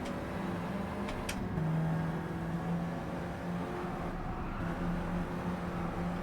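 Engine of a Volkswagen GTI on comfort medium tyres in Gran Turismo 7, a steady mid-pitched drone with slight pitch changes, running continuously at moderate level with no talk.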